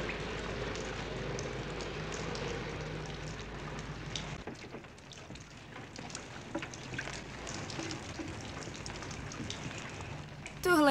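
Rain falling, a steady soft hiss of drops with faint patter, fairly quiet and continuous, with a brief louder burst at the very end.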